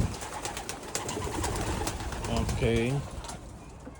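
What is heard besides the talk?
young pigeon or dove cooing in a cage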